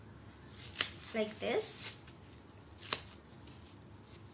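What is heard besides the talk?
scissors cutting a square from a Scotch-Brite sponge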